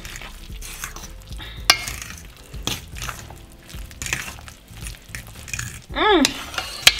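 Spinach being stirred into a creamy sauce in a pan, soft wet scraping and stirring with occasional utensil clinks against the pan, close and moderate, with a brief squeaky scrape near the end.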